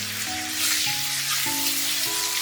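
Wet spice paste with turmeric, salt and a splash of water sizzles in a pan for prawn curry, a dense steady hiss of frying close by, unbroken and without talk.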